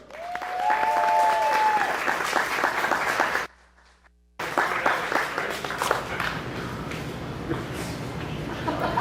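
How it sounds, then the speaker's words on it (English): Loud applause from a big audience, dense clapping that cuts out abruptly for about a second, then resumes just as strong. "give a huge round of applause"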